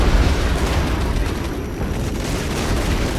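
Napalm airstrikes in the strategy game Regiments land in a dense, continuous roar of rumbling explosions and booms, loud and close throughout with no speech.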